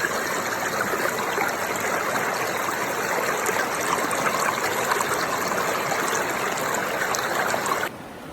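Water rushing steadily through a gold-panning sluice box on an Oregon stream, a close, continuous splashing flow with no talk, cutting off abruptly near the end.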